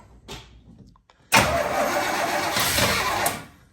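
A 1985 Chevy Suburban C20 engine starts for the first time: after a brief quiet crank, it catches with a sudden loud burst and runs roughly close by for about two seconds before fading.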